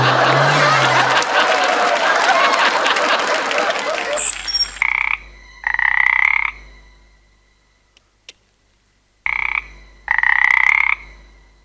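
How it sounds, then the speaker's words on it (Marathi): On a comedy stage show, a frog croaks in two pairs of short, loud, nasal bursts separated by silence. The croaks follow a noisy stretch of crowd sound. "बेडकाचा आवाज आहे तो."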